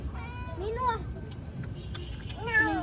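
A cat meows twice, close by, with rising and falling calls at the start and end, and a person talks softly over a low background hum.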